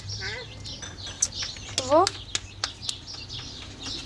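A small bird on a farm gives a few quick, rising chirps, fairly close and clear, scattered between a man's speech and soft background clatter.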